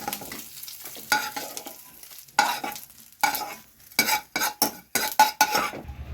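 Ingredients frying in a pan for a Telugu tomato chutney: a faint sizzle broken by sharp spatula scrapes and metallic clinks that speed up into quick, close bursts.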